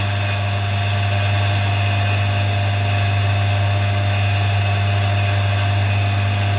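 A two-speed electric motor rated about 2.4 to 3 kW runs steadily, giving a constant loud hum with a strong low drone that stays unchanged throughout, with no talking.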